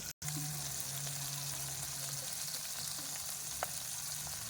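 Dried fish (bulad) frying in a pan while cooking monggo with ampalaya leaves, giving a steady close sizzle with occasional pops and crackles, no one talking.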